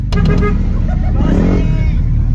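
Road traffic on Ayala Highway, with loud passing car engines and rumbling vehicle noise close by, and voices talking underneath.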